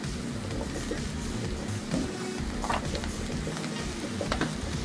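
Bacon, vegetables and a spoonful of natural cream sizzle steadily in a pan while being stirred, a constant frying hiss with occasional scraping clicks, close and alone.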